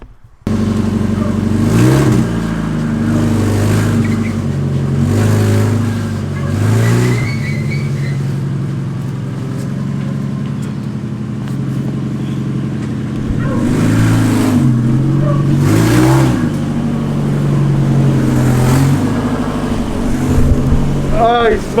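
A Mazda Miata engine with a disconnected exhaust revs repeatedly in loud, raspy bursts over a steady rumbling idle, close by, with people talking now and then.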